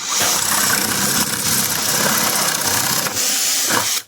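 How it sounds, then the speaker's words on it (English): A 3/4 inch paddle bit drills into material for a DIY chicken or duck waterer and feeder, with a loud, steady power-drill whir that cuts off abruptly near the end. "I'm using a 3/4 inch paddle bit for this"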